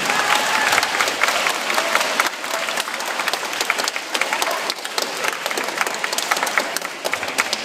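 An audience claps warmly to welcome a school band at a New Brunswick event, sustained dense applause from a crowd filling the whole stretch with no talking.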